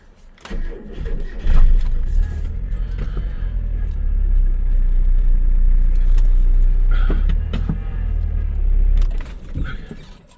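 Mazda Miata with a completely seized clutch being reversed, its engine and drivetrain producing a loud, steady low rumble with metallic rattles and jangling scrapes, swelling and easing over several seconds with no talking.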